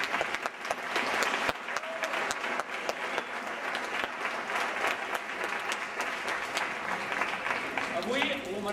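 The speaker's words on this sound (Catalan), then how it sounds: "També un aplaudiment per la tasca que fa." Sustained applause from a crowd at a school ceremony honouring a volunteer, steady clapping that fills the whole stretch without pause.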